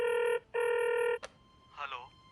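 A telephone rings while a call connects, with two long, loud electronic rings separated by a short gap and followed by a click, then a brief voice.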